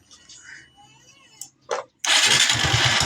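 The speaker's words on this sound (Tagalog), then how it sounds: "So try natin i-start, paki-start mo nga." A Barako 3 motorcycle engine starts after a couple of short cranking attempts and settles into a loud, steady idle close by, with faint background noise beforehand.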